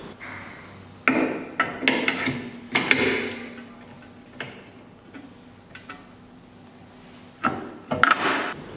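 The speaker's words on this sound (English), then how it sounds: "Install single-sided standard key clamp." Metal clicks and clacks as a single-sided standard key clamp is fitted into an SEC-E9 key cutting machine, a series of sharp knocks and taps in a quiet room with a faint steady hum underneath.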